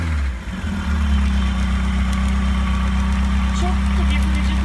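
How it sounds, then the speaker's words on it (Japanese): A carbureted engine in a Westfield car idles loudly up close, dipping briefly at first and then holding a steady, throbbing idle with a faint rise in revs. "ちょっと吹かしてみましょうか。 はい、もうキャブらしいというか反応いいですよね。"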